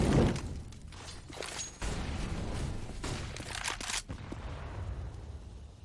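Rapid gunfire bursts from Counter-Strike: Global Offensive in a competitive Phoenix versus Heroic match, loud repeated volleys and sharp shots crowding the whole stretch with a few brief gaps, no talk.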